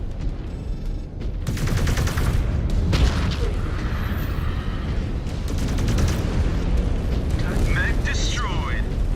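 A mech being destroyed in a mech combat video game, Wolves of Tukayyid, with loud booming explosions and rapid gunfire bursts layered over a dense battle roar, punctuated by a brief electronic tone.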